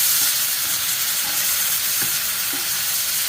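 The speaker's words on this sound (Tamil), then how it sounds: "அப்புறம் பச்சை மிளகாய் சேர்த்து நல்லா வதக்கணும்." Green chilies sauté with onions in a hot pan for a chicken kothu dosa, a loud, even sizzle with a few faint scrapes of stirring underneath.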